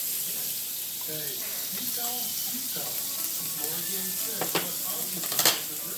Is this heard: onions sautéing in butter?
yes